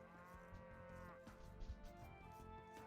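Cows low in an Age of Empires 2 match, a drawn-out moo standing out clearly over quiet game ambience.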